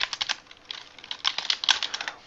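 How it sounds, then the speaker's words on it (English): Rapid typing on a computer keyboard, a steady run of close, crisp key clicks with uneven rhythm and a few harder strikes, heard alone without talk. "If you simply click a layer and start typing"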